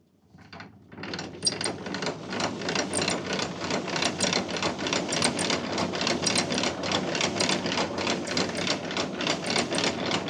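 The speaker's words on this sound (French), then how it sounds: "Et voilà, et c'est parti pour le vannage." An old grain winnowing machine at work in a barn, a rapid rattling, clattering mechanism that starts up after a brief quiet moment and keeps running loud and steady with a fast regular ticking rhythm.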